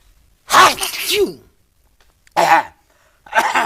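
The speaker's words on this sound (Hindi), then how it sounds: "और 1 मिनट छींक आ रही है" Three loud, close human sneezes in a Pakistani comedy talk show, each a sharp burst with breathy release, separated by short silent gaps.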